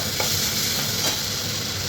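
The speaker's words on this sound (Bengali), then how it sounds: "দেখো মশলাটা দিয়ে ভালো করে আলুটা কষিয়ে দিচ্ছি" Potatoes frying in hot oil with spices and getting stirred, a steady close sizzle with soft scraping strokes of the spoon running through the whole short stretch.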